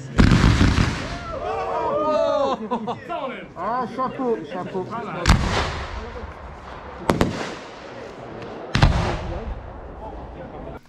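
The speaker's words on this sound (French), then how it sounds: "Boum, feu d'artifice." Fireworks go off at the opening of an airsoft field. A rapid crackling barrage of bursts and whistles is followed by several sharp, loud booms spaced a second or two apart, with people talking over them.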